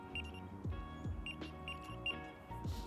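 A Nash Siren R2/R4 carp-fishing bite alarm receiver emits a repeating electronic tone in short beeps with brief clicks between, quiet and close, no speech.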